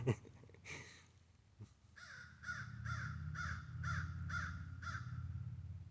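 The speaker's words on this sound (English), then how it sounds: "I have a crow trying to really send me a message." A crow caws repeatedly outdoors, about eight evenly spaced harsh calls in a steady rhythm, moderately close over a low background hum.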